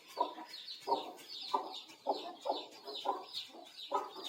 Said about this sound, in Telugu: హాయ్ ఫ్రెండ్స్, ఇప్పుడే పుట్టిన కోడి పిల్లలు చూడండి.